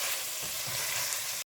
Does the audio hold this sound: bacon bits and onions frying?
yes